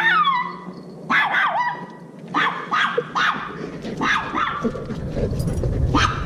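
A Doberman and a German Shepherd indoors give a run of high yips, whimpers and sharp barks, loud and close in bursts about every second.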